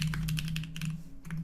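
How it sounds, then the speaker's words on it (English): Rapid clicking of computer keyboard keys being typed on, a quick irregular patter of close, crisp taps with a steady low hum underneath and a brief pause near the end. "I moved my keyboard, now I can't type at all."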